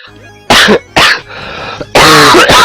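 A man coughs loudly and close up in several harsh bursts with short gaps between them, over faint background sound.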